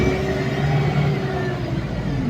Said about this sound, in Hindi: बस की भी आवाज़ सुनते होगा गाइस, आवाज़ भी बहुत है गाड़ी में